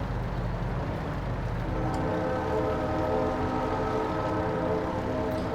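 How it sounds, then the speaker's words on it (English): Train horns sound in the background of a Farming Simulator 22 map, with steady sustained tones held over a continuous low rumble of farm machinery throughout. "I love how you can hear train horns in the background on this map."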